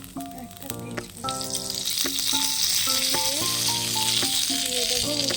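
Green chillies and a bay leaf hit hot oil with cumin seeds and sizzle loudly and continuously, while a voice speaks intermittently over the frying.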